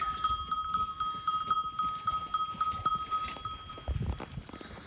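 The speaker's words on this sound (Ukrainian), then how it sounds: "Вівці вже все. Хочуть їсти." A flock of hungry sheep mills about nearby, with a steady jangle of livestock bells ringing in quick, irregular clinks over soft shuffling and low rustle.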